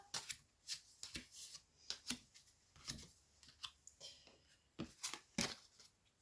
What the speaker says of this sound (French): Alors on va recouvrir ces 5 cartes.